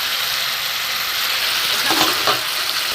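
Ground cumin, coriander and chili powder with grated ginger sizzle loudly in hot oil for a light rohu fish curry, a steady close frying hiss with a few faint stirring scrapes.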